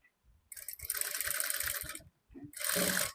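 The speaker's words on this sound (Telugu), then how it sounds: "ఈ మార్కింగ్ దగ్గరికి స్టిచ్ చేసుకోవాలి" Sewing machine stitching a maggam work blouse, running in two bursts of rapid mechanical whirring with a short pause between, close and steady.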